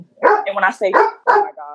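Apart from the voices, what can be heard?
dog barking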